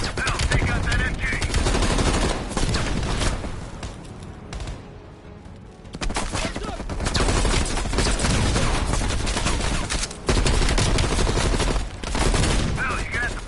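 Sustained heavy machine gun fire in the Black Ops Cold War campaign: loud, continuous rattling bursts with explosive booms, a brief lull midway, then renewed intense gunfire, with speech mixed in under the battle.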